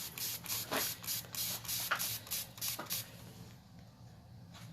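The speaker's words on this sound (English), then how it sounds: "I'm going to spray it here with just some cool water." Short bursts of cool water spray hiss out in a quick series of about a dozen pulses, close by, then trail off into quiet.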